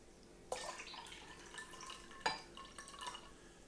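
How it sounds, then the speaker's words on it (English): Tap water is poured into purple cabbage water in a glass, giving a few faint splashes and drips with small clinks, close and quiet. "Let's just see what happens when we add the tap water to the cabbage water."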